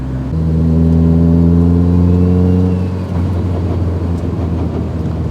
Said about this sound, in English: How come every 8 or 9 makes this rattle right here? On decel.